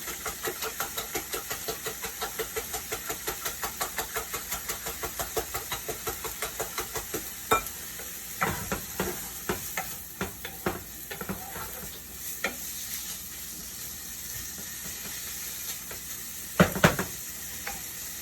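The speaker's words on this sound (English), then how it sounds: "Just refluffing up the eggs." Eggs are stirred and fluffed in a hot, sizzling pan. A utensil scrapes the pan in quick, regular strokes, then gives way to scattered taps and knocks, with a louder cluster of clatter near the end.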